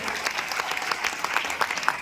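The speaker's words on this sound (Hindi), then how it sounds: "एक बार जोरदार ताली होती है दोस्तों" A crowd claps steadily throughout, a dense, even patter of applause from many hands in a large room at a carnival stage show.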